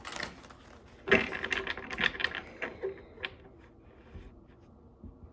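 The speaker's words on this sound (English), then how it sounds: "I will shuffle this again." Crisp riffling and snapping of a tarot card deck being shuffled, a burst of clicks followed by softer scattered taps, close and without speech.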